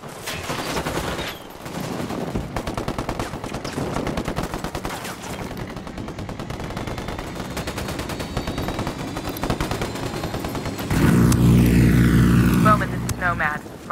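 Gunfire in the Ghost Recon Wildlands video game: sustained rapid automatic bursts crackle nonstop, followed by a louder rushing blast of engine or explosion noise, with a voice speaking among the shots.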